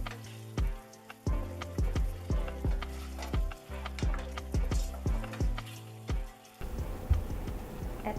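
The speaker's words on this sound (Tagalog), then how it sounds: "Halu-haluin until lightly browned na yung chicken." Chicken browning in a pan for arroz caldo sizzles loudly while being stirred, with repeated scraping strokes and bursts of frying close to the microphone.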